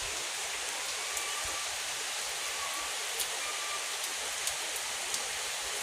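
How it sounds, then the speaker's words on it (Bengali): Steady heavy rain pours down over an open field, a dense, even hiss holding at one level throughout with a few faint pattering ticks, no voices. "অঝোর ধারায় ঝড়ে বৃষ্টি,"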